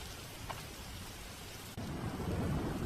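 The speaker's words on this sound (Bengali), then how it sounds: "আবার বৃষ্টি হচ্ছে, তোমার শরীর খারাপ করবে" Rain falls steadily on a winter day while thunder rumbles low and close, swelling louder in the second half as the downpour and rolling thunder deepen together.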